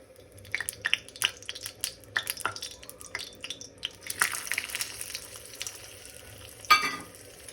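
Carrot halwa with added sugar sizzles softly in a pan as a spoon stirs and scrapes through it, producing scattered close clicks and scrapes with a louder clatter near the end and no talking.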